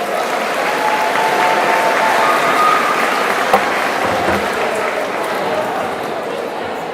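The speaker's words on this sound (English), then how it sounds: "Give them a round of applause." A crowd at an eighth-grade graduation ceremony breaks into loud, dense applause that stays steady and even throughout, with no speech over it.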